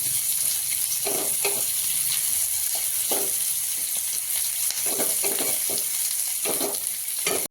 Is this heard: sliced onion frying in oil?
yes